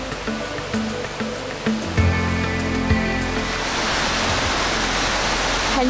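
The Iffigfall waterfall near Lenk in the Swiss mountains roars with a dense, continuous rush of crashing water, loud and steady throughout.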